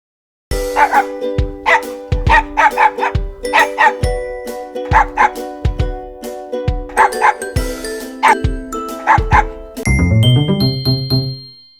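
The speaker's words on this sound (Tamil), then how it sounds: "நாய் குரைக்கும்." A dog barks repeatedly in a steady rhythm over a bright, chiming musical backing with bell-like tones; the music swells alone near the end.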